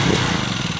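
A Harbor Freight air-cooled engine on a homemade mud motor revs hard in neutral, a steady, loud buzzing drone held at high speed throughout, close up with no other sounds.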